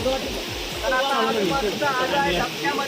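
A village river rushes past in a loud, constant broadband roar, with voices talking over the flowing water.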